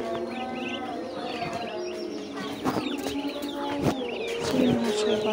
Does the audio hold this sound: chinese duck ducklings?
yes